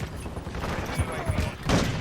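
Rapid bursts of gunfire from the video game Call of Duty during a competitive league match, crackling repeatedly and building to a louder volley near the end, mixed with a speaking voice.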